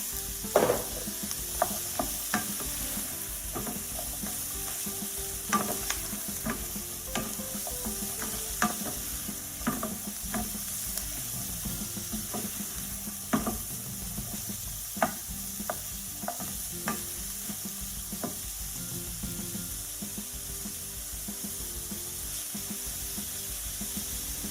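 Carrots and other vegetables stir-frying in margarine in a pan, a steady close sizzle with frequent sharp scrapes and taps of a spatula throughout.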